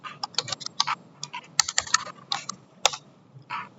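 Fingers typing on a computer keyboard, close irregular bursts of crisp key clicks and taps with short pauses between, no speech.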